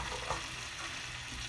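Melted butter sizzles in a pan ahead of sugar and milk for chocolate peanut butter candy, a quiet, steady crackling hiss heard up close and alone.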